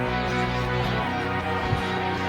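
Electric guitar strummed in a steady eighth-note pattern, a dense sustained chordal wash that carries on without pause, played alone and close.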